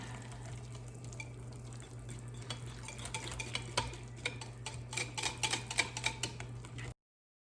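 Hot process tallow soap stirred in a hot pot, with a steady low hum underneath and a growing run of quick clicking, tapping strokes that grow denser toward the end, close and fairly quiet, no speech.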